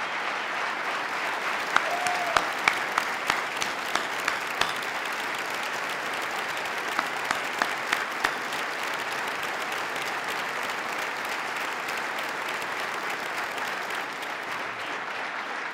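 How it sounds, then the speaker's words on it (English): An audience at a 2018 State of the State address breaks into sustained, dense applause lasting the whole stretch, a loud even wash of many hands clapping with a few sharper claps near the start. "Let's give them a round of applause and thank them for the great work that they do."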